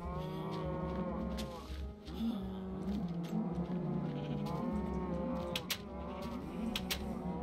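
Minecraft cows moo in a video game, a steady run of low, drawn-out bellowing calls that overlap and fill the scene, loud and close with no talk.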